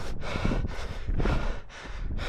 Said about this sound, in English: my heavy breathing is the best indication of it